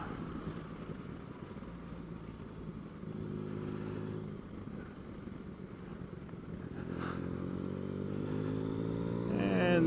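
A 2020 Yamaha Tracer 900 motorcycle on a test ride, its engine droning steadily, then rising in pitch and loudness as the throttle opens toward the end.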